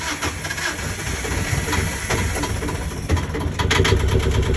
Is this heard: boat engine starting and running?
yes